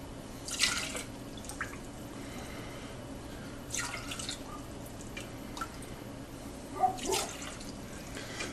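Sumac lemonade being strained through cloth, with a faint steady trickle of liquid and a few sharper drips and splashes at intervals, fairly quiet and close with no talk.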